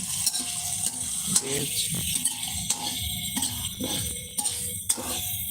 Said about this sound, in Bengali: মাছটাকে ভাজবো পেঁয়াজ মরিচগুলো ভাজবো তার একসাথেই ভাজবো